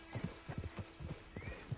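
Horse hooves clip-clop in Red Dead Redemption 2, a steady irregular run of hollow thuds from a horse walking close by, with no talk over them.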